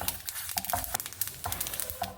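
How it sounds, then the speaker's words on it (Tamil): Sesame seeds roast in a pan with irregular close popping and crackling, soft rapid patters scattered over a faint sizzle, with no talking. "எள்ளு கொஞ்சம் இன்னும் கொஞ்சம் வறுபடட்டும்"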